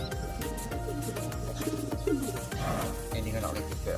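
Tippler pigeons cooing in a loft, soft repeated low coos close by amid a busy mix of other bird calls and background noise, with a voice speaking now and then.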